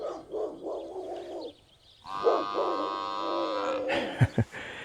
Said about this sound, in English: hear the dogs bark and the buffalo